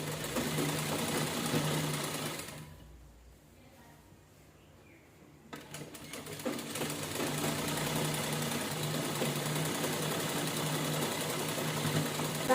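A sewing machine runs a tack stitch along a blouse strip and lining, a steady mechanical whir that stops for about three seconds before resuming and continuing to the end.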